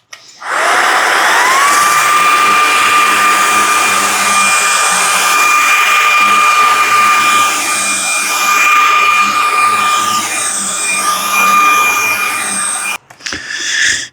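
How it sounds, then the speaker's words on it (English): A 550W cordless vacuum cleaner with 45Kpa suction runs steadily over carpet, its motor whine rising at startup and holding a loud, constant tone close by for about twelve seconds before cutting off abruptly. "That's all I was vacuuming was for 2 minutes."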